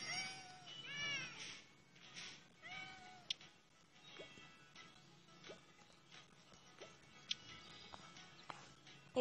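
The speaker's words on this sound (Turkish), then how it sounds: "Benim bir tane de kedim var." Cat meows from the farming video game Hay Day, several rising and falling meows early on, then quieter farm game sounds and faint clicks, fairly soft overall.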